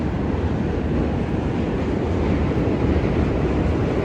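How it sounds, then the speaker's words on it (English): A continuous loud rumbling roar of a train crossing a bridge in DUMBO, Brooklyn, New York City, steady and broad, with no voices. "you're gonna hear a lot of noise because of the train."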